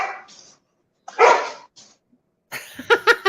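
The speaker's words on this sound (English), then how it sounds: "He's got a big bark for a puppy." A puppy barks in short, sharp bursts, one loud and close with gaps of silence between, then a quick run of rapid yips at the end; no talking over it.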